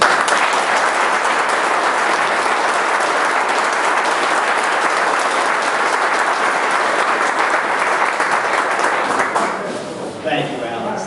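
Sustained audience applause at the 2012 LS National Conference, welcoming a speaker to the stage; dense, steady clapping fills the room for about nine seconds before tapering off as a voice begins.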